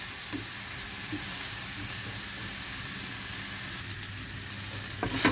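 Finely chopped onions sautéing in a pan give a steady, even sizzle and hiss that runs close and continuous, with a few faint scrapes and a small clatter right at the end, and no voices.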